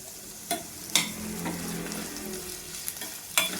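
Bitter gourd frying in a pan, a steady hiss of hot oil with a few sharp spatula taps and scrapes at irregular intervals, close up and alone without talk.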